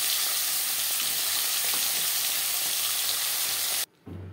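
Pieces of foli fish sizzle loudly in hot oil in a kadai, a dense, continuous hiss that cuts off abruptly near the end and then resumes more quietly.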